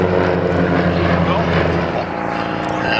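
A Percival Provost trainer's 550-horsepower piston engine drones loudly and steadily close by, a throbbing propeller roar with a slight dip partway, while a voice talks over it.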